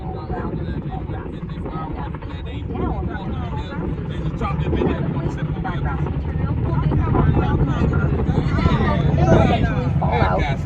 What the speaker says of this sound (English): Those is military helicopters.